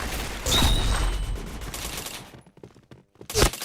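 Gunfire in the video game Point Blank: dense automatic bursts fill the first two seconds, drop to near silence, then a final loud burst returns near the end.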